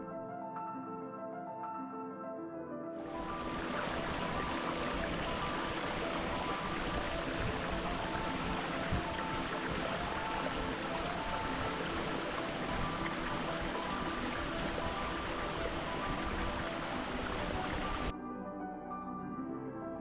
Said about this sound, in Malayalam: നമ്മൾ നേരത്തെ കണ്ട വെള്ളച്ചാട്ടം പാറയിലൂടെ ഏറ്റവും താഴത്തെ തട്ടിലേക്ക് അരിച്ചിറങ്ങുമ്പോൾ